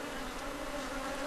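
Honey bees buzzing around an open hive during a comb inspection in Ghana, a steady close drone of many bees with no voices.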